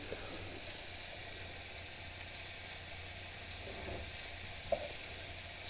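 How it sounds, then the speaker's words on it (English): Mince sizzles steadily in a pan with onions, peppers, herbs and olive oil, giving an even close frying hiss with a brief stir or tap near the end. "get the mince in there with the onions and the peppers and the herbs and the olive oil"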